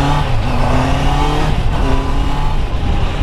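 Honda CBR 650 F motorcycle engine revving at steady high load on the autobahn, a dense continuous roar with rising and falling harmonic tones mixed with wind noise.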